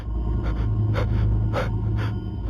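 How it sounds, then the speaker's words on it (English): Heavy, gasping breaths sound right at the ear in a horror video game, four or five loud ragged inhalations and exhalations over a constant low droning background, with no speech. "this heavy breathing in my ear is kind of insane"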